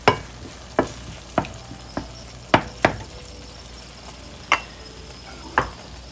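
Eggs and tomatoes sizzle in a pan for a Persian tomato omelet under a steady frying hiss, while a spoon scrapes and taps in sharp, irregular strokes, close and with no talk.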